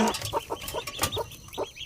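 A brooding hen with a clutch of newly hatched ducklings clucks in short repeated bursts close by, mixed with faint high peeps, and no talking.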